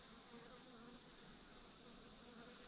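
Honey bees buzzing around an opened hive, a steady close drone of many insects that continues throughout, faint overall with no talking.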